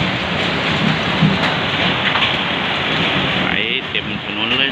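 Giant hailstones fall with heavy rain at Huai Mek in Kalasin, Thailand, a loud, unbroken roar of pelting on surfaces with a few sharper knocks, and faint voices underneath.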